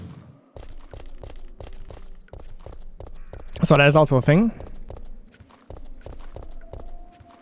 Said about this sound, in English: Weird footstep sounds there.